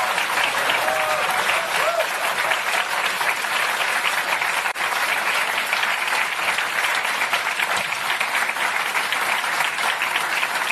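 Sustained, loud applause from a crowd at a Keir Starmer political speech, steady dense clapping with no voices over it for the whole stretch.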